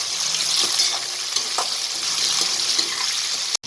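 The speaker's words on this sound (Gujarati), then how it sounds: "આપણા ભીંડા ફ્રાય થાય છે" Turmeric-coated okra frying in hot oil, a dense, loud, continuous sizzle with faint stirring taps, ending in a brief clunk.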